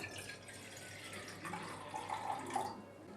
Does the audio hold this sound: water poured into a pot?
yes